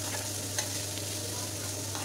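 Peas stir-fried in a pan for a quick snack make a steady, faint sizzle and hiss, with one soft scrape partway through.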